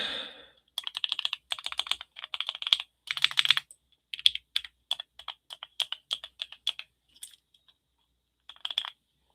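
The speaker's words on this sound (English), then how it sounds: "I made my keyboard." Clicky keystrokes on a handmade custom mechanical keyboard, typed in quick bursts and short pauses, close and crisp in a quiet room.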